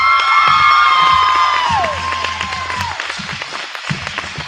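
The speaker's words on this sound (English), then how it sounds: "Let's give him a round of applause." A youth awards celebration crowd bursts into loud applause and cheering, whoops and shouts on top, with steady clapping that gradually thins and fades.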